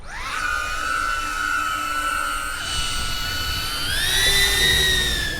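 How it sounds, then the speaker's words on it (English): A loud camera drone flies overhead with a steady, high, whining buzz of spinning propellers that rises slightly in pitch near the end over a constant rushing noise. "This drone is very loud and intimidating when you hear it."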